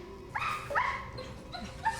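A dog barks and yips in a few short, sharp bursts with a whimpering edge, heard at moderate distance within a tense television drama scene.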